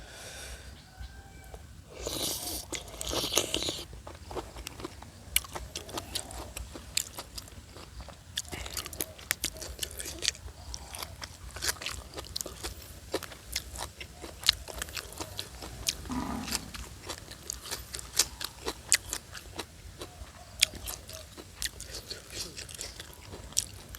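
Raw shrimp sashimi being bitten and chewed up close, a run of soft, wet crunching and smacking bites repeating steadily for the whole stretch, with no talk over it.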